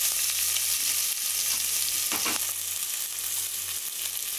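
Sliced big onions with green chillies, cloves, cinnamon, cardamom and bay leaf frying in oil for a tomato kuruma, giving a steady, loud sizzle with a brief stirring scrape midway.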